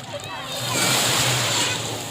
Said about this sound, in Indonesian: Awas kena ombak loh, jangan gitu.